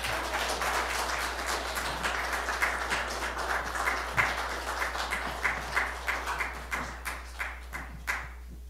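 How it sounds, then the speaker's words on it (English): Congregation applauding a musical guest during a church worship service, moderately quiet sustained clapping that gradually thins to a few separate claps, with a low steady hum beneath. "Please give him another round of applause."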